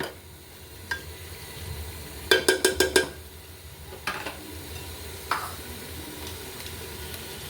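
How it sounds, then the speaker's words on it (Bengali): Meat for Afghan Kabuli pulao is sautéed in a pan, giving a low sizzle with a quick burst of metal spoon clinks and a few scattered stirring knocks, nearby and without speech. "আগে মাংসটা ভালো করে কষাতে হবে নাহলে কিন্তু মজা লাগবে না তাই আমি অনেকক্ষণ ধরে কষিয়ে নিচ্ছি"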